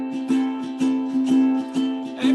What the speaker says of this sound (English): So here's just a ukulele strumming that down and up